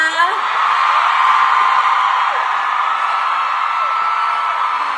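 A large crowd screams and cheers continuously, a loud sustained high-pitched roar with no pauses.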